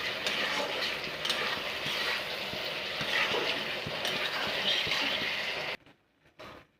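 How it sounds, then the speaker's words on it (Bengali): Masala with a spoonful of sugar being stirred and fried in a pan for a fish and potato curry, a steady sizzle with stirring scrapes that cuts off near the end, leaving a quiet pause and one soft knock. "দিয়ে ভালো করে এটাকে নাড়াচাড়া দিয়ে আর কিছুক্ষণ কষিয়ে নেব।"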